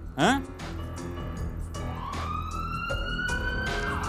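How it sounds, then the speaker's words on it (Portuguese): A police siren rises and holds its wail over a busy mix of background sounds, following a brief sharp burst at the start. "Polícia. É a sirene de novo aparecendo"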